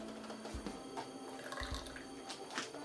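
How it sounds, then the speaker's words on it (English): Hot water is poured over chicken ramen noodles in a desktop cooking setup, a faint, soft trickle with a few scattered drips and splashes and no talking. "I'm going to go ahead and dump the water on top of it, which will be nice and hot"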